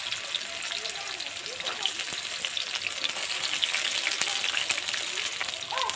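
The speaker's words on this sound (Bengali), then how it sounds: "গাজর আর বিনসটা একটু ভেজে নেব।" Carrots and beans frying together in hot oil, a steady close hiss with scattered faint crackles running the whole time, with no voices over it.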